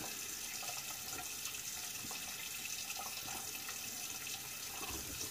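Tap water runs steadily into a sink while a boar-bristle shaving brush is rinsed under it, a continuous close splashing wash with no talk.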